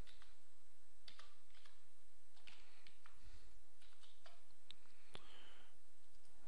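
Rapid clicking of computer keyboard keys as someone types commands into Maple math software, an irregular run of close, crisp keystrokes with short pauses between bursts.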